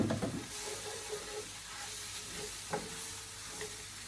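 Previously browned minced beef tips into a hot pan for chilli con carne, setting off a faint steady sizzle and hiss with a few soft scrapes and stirring knocks, nearby and quiet.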